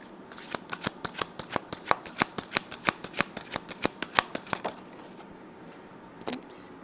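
Tarot cards are shuffled in a quick, even run of crisp flicks and riffles, close and clear. A single last card snap follows after a short pause.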